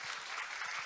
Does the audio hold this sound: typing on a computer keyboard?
no